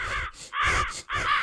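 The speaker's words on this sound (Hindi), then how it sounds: "अली कौवे के घर नीचे गिराने देखा तो सारे कौवे उसको भगा रहे हैं।" Cartoon crows chasing another bird, three loud, harsh caws in quick succession, close and clear with short gaps between them and nothing else underneath.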